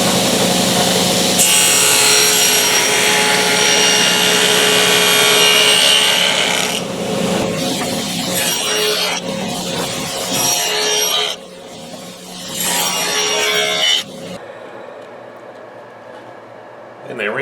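A wooden box has its lid cut off on a power saw, a loud sustained cutting whine with grinding, followed by shorter bursts of sawing and rubbing with pauses between them.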